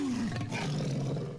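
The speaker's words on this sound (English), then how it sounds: "The little fella's got big roar." A dinosaur in Minecraft lets out one big, loud roar, a deep rumbling bellow that slides down in pitch and holds steady for over a second before cutting off, with no talk over it.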